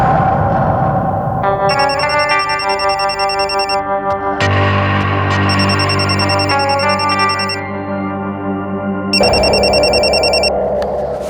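An electronic telephone ringtone with layered harmonic tones and warbling, effected bursts, loud and continuous in a few repeated phrases with no talk over it.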